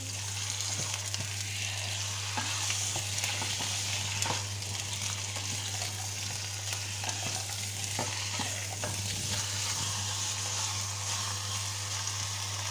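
Duck legs and carrots being stirred in a sizzling pan, with continuous frying hiss, scattered scraping strokes of the utensil and a steady low hum underneath, no talking.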